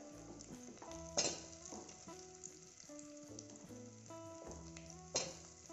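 Potatoes frying in hot oil in a pan for vegetable masala pulao, a steady crackling sizzle with a few scrapes of stirring and two sharper bursts of spitting along the way.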